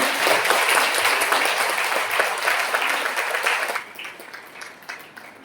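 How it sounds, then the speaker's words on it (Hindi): A crowd at a Christian women's empowerment workshop applauds to welcome a speaker to the stage, with dense, steady clapping that gradually thins and fades out over a few seconds. "तालियों के साथ स्वागत करेंगे"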